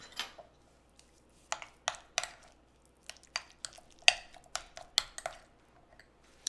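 Oregano, dried basil and other seasonings get stirred into a calzone filling. The sound is a sparse series of soft, sharp clinks and scrapes, close by and quiet over a low hum, with no talking.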